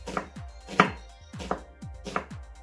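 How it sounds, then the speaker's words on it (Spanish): A knife chops through an onion on a cutting board, four crisp, evenly spaced thuds close by with no talking. "Otra vez hacia la mitad, deditos aquí y empezamos a picar."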